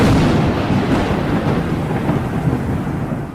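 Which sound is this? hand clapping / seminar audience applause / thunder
thunder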